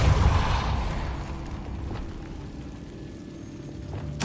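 A Depulso blasting spell in Hogwarts Legacy lands with a heavy low boom that fades into a rumbling tail. A second sharp impact hits right at the end, and no speech is heard.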